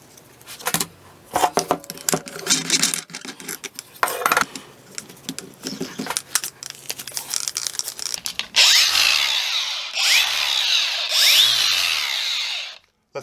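A grinder or variable speed polisher fitted with a tile and stone polishing pad runs loudly, buzzing steadily and rising into a harsh, high grinding whine in the last few seconds before cutting off.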